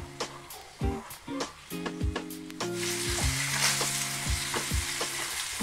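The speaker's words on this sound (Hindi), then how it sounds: "सभी पीस हम फ्राई कर लेंगे इसी तरीके से।" Pieces of fish for a Punjabi fish curry fry in a pan, giving a steady oily sizzle that grows denser partway through, with repeated clinks and scrapes of a utensil against the pan.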